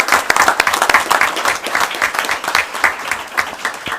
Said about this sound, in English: I'd like a round of applause for all our law enforcement officers here this evening